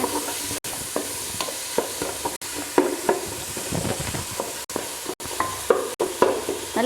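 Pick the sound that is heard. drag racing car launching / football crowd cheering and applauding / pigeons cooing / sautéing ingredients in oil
sautéing ingredients in oil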